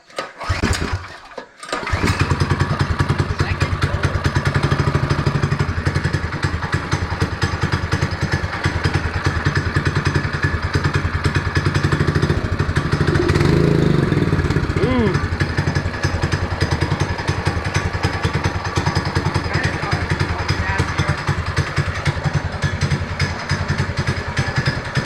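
A Predator 212 engine swapped into a Chinese ATV idles steadily and loudly inside a barn after a brief start, its even chugging drone running on without letup.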